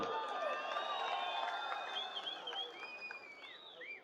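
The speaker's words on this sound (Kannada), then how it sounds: "ಸ್ವಲ್ಪ ಜೋರಾಗಾದ್ರೂ ಚಪ್ಪಾಳೆ ಹೊಡೀರಿ ಗಂಡಸರು" At a Congress political rally, a crowd claps and cheers, with shrill whistles rising over the steady applause throughout.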